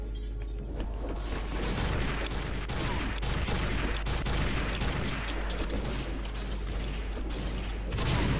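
Rapid gunfire in a video game, with dense bursts of shots and booms that stay loud and continuous throughout.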